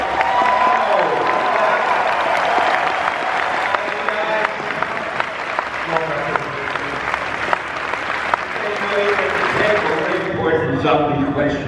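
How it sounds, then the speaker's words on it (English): A large crowd at a Megacon 2015 convention panel claps and cheers in loud, sustained applause that fills the room, with voices audible underneath as it tapers off near the end. "let's get a big round of applause for our special guest here"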